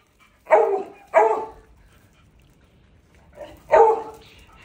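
A beagle at an animal shelter barks in short bursts: two close barks near the start, a pause, then two more after a gap, fairly near and loud with no talk.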